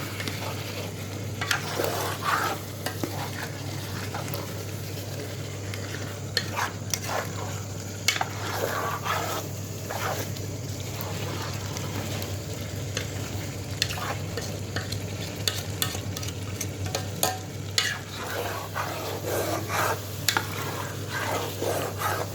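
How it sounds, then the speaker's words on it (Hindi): Chicken and julienned ginger curry stirred in a pan, with spoon scrapes and taps repeating over a low, steady sizzle and a constant hum in the background. "अब इसे अच्छी तरह से मिक्स करें।"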